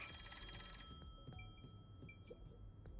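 A telephone rings in the video game Raincode+, a repeated electronic trill that starts with a dense burst and continues as shorter intermittent rings over soft game ambience.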